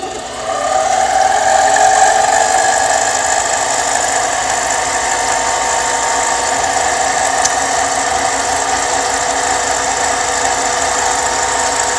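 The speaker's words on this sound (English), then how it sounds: "I'm going to turn the lathe on and go to the center of it" A metal lathe runs steadily for the whole stretch, its motor and spindle giving a constant mechanical hum with a faint whine, close and unbroken, with no talking over it.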